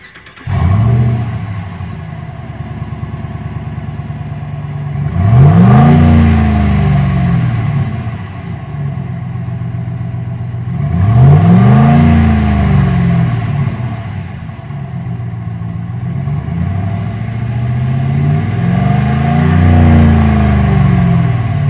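A Dodge RAM 1500 pickup with an aftermarket exhaust idles with a deep burbling rumble, then revs hard three times at regular intervals, each rev rising and falling before it settles back to idle, loud and close.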